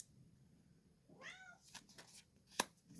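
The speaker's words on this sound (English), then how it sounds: "I do apologize for the noises my cat's making" Indoor cat giving one clear drawn-out meow, followed by softer rustling and a sharp click, fairly quiet overall.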